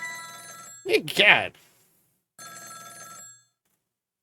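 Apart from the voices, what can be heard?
telephone ringing in the video game Ghost Trick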